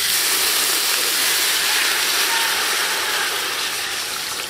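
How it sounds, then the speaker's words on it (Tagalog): Water poured into a pot of bulalo beef soup, a steady loud hissing rush that holds evenly throughout and tapers slightly at the end, with no voices. "maglalagay na po tayo ng tubig"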